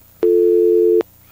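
A steady telephone tone passes through a Broadcast Host Digital Hybrid in a radio studio. It is a single loud, flat beep lasting under a second, starting and stopping abruptly against quiet background hiss.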